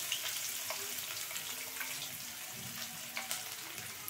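Onion and curry leaves sizzle in hot oil in a pan, a steady broadband frying hiss with occasional small pops and crackles throughout, fairly close and with no voices.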